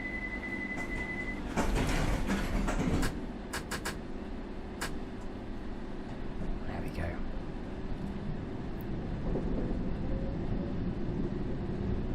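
An underground train in a London Underground simulator game rumbles along with a steady low drone, punctuated by door and mechanical clatter, with a brief high tone early on.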